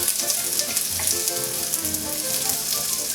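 Onions for a Philly cheesesteak sizzle loudly in a hot pan, a dense continuous crackle with light stirring scrapes and no voices.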